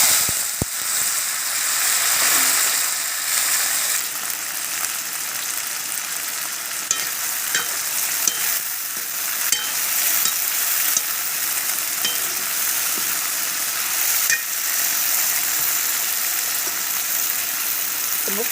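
Vegetables stir-fry in hot oil with cumin, mustard seeds and garlic, giving a continuous loud sizzle with scattered pops and crackles as they are stirred, with no talking.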